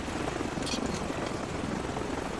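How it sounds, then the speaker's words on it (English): A helicopter in the video game Call of Duty 4: Modern Warfare drones steadily with a dense rotor rumble, sounding fairly close and constant throughout, with no voices over it. "The helicopter's back."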